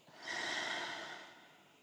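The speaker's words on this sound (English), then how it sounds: "Breathing in and breathing out." One slow, soft breath during a yoga session swells over about a second and then fades. It is close and airy, with no talk.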